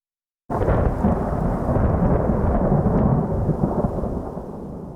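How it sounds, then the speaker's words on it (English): After a brief silence, a deep rolling thunder rumble enters abruptly and sustains under a dense, steady wash of pattering hail, layered as a sound-design ambience. "The next layer is a simple thunder layer."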